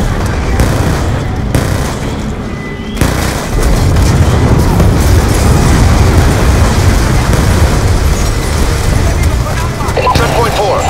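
Continuous heavy battle din with booming blasts and rumbling impacts across a military facility in the Call of Duty Black Ops II campaign mission Judgment Day, loud and dense throughout, with a brief lull near the start.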